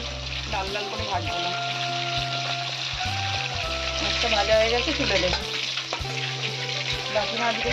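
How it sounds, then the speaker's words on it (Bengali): Payra tori fish fry in hot oil with a loud, continuous sizzle and bubbling crackle, stirring noises mixed in over a steady musical background. "তেল গরম হয়ে গেছে এবার মাছগুলো ভেজে নেব"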